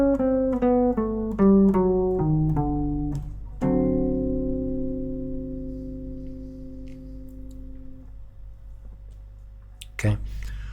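Guitar plays a descending five-note bebop scale pattern in a Mixolydian flat 2, flat 9 sound, with quick plucked notes stepping downward before a longer sustained ringing chord, close and clear, then a brief sharp knock near the end.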